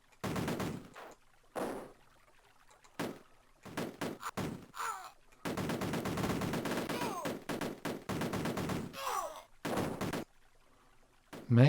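Gunfire in the Cannon Fodder video game, with repeated bursts of rapid shots separated by short silences. The shots are loud and sharp, and a few brief game effects are mixed in between the volleys.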